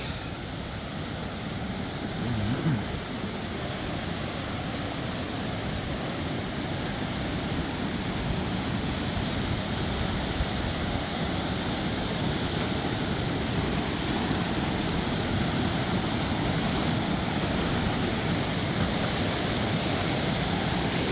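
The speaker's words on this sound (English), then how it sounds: "The Schroon River Falls is directly below the bridge" Water rushes over the Schroon River Falls beneath a bridge in the Adirondacks, a continuous broad roar that stays steady and fairly loud throughout with no voices.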